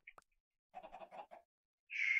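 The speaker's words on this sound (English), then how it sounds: "Prog actually has a whole bunch of chickens over here" Chickens in a Minecraft modded server, a few short clucks and a quick burst of bird calls, then a longer squawk at the end, sparse and isolated against silence.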